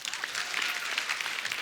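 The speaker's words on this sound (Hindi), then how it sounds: "जोरदार ताली हो जाए।" Steady, bright applause from a studio audience at a comedy show stage, dense clapping sustained evenly throughout a short burst.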